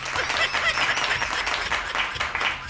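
Group applause breaking out in a room, brisk overlapping claps with a voice or two chiming in over the steady clatter.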